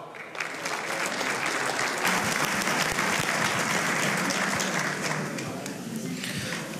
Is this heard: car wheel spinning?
no